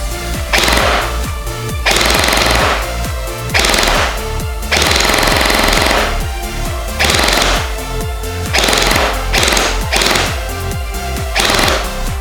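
A Le Hui Kriss Vector V2 gel blaster fires in loud, close bursts of rapid mechanical clatter, with uneven pauses and gaps between volleys as it misfires and fails to feed.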